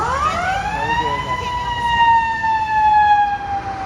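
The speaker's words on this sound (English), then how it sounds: "As an ambulance comes through," A wailing ambulance siren on a Chicago street sweeps upward and then holds a steady, loud tone, with traffic noise underneath.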